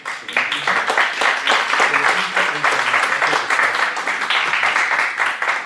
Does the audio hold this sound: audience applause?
yes